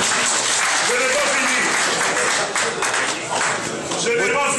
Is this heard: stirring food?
no